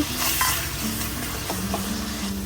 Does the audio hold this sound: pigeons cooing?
no